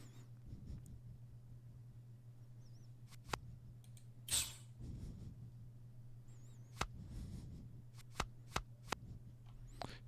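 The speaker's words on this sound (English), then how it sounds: "Shuffle a card from your graveyard into your deck," Card shuffling effect from the digital card game Infinity Wars Classic, a few sharp riffling bursts and clicks over a steady low hum, with no talking.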